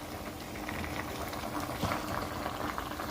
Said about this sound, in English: I'll go ahead and add like a spoon of this spice into the meat boiling.